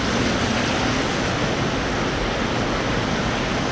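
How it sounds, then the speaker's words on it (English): Water rushes steadily through a channel at a wastewater treatment plant's headworks, a dense, continuous roar with no breaks. It is loud and close, and no one speaks. "After that, the water flows further down the line"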